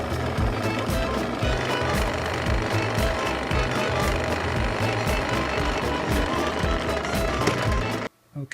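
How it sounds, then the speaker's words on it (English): A drill bit bores holes into wood for a homemade Christmas wand, a loud, continuous rattling grind with a steady pulsing rhythm that holds for about eight seconds, then stops abruptly. "here we have a drill bit that is the same diameter, or roughly close to it"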